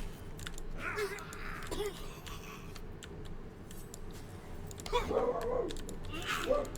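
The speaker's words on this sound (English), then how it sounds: "Sorry, my dog's barking at something." A dog barking at something in a room during gameplay of The Lord of the Rings: Return to Moria, a few faint, distant barks and yips scattered over a low background hum.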